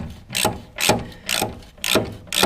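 A ratchet turns a socket on the radiator of a Ford 2810 tractor, its clicking strokes coming in five quick, evenly spaced bursts, close and loud with no talking.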